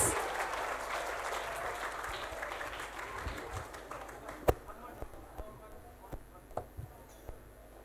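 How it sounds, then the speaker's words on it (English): Audience applause before a traditional Melewis Putih dance performance by English Language Department students, a dense wash of clapping that thins out over several seconds, leaving scattered individual claps and thuds. "Give a very round applause."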